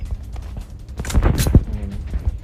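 Gunfire in the mobile battle-royale game PUBG Mobile, a burst of several close shots clustered in the middle, with background game ambience before and after.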